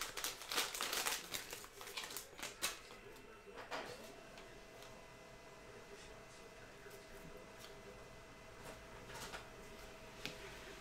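A 2021 Prestige football trading card fat pack crinkles and tears open with crackling foil wrapper noise, loud at first and then fading into softer rustles and card handling.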